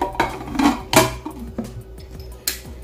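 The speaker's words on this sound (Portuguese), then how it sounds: "Colocar a tampa aqui." Metal lid set onto a pressure cooker pot holding sardines, a few sharp clanks and clinks of metal on metal spaced over a few seconds, close and loud with no talking.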